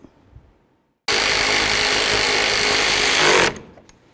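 A power tool tightening radiator bolts on a 2007-14 Ford Edge gives one loud, steady buzzing whir of about two and a half seconds, starting and stopping abruptly, close by, after a short quiet.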